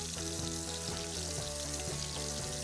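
A fresh batch of razor clams sizzles and fries in a pan over a lowered flame, a steady dense crackle with a bubbling, pouring texture throughout and no voices.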